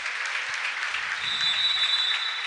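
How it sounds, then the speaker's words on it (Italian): Fans applaud at an indoor Serie B2 women's volleyball match, a continuous wash of crowd clapping at moderate distance with a high whistle-like tone partway through. "E sentiamo gli applausi."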